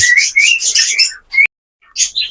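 Budgies chirp in quick, bright bursts, a rapid chattering run, a short pause, then more twittering up close.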